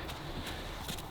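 Hooves clip-clop as horses walk, a few distinct clops spaced over a brief moment against a steady outdoor background hiss.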